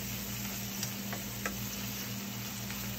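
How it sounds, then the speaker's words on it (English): Onions sautéing in a pan on the stove give a steady, even sizzle with faint scattered pops and light clinks throughout, and no voices. "I've already sauteed our onions"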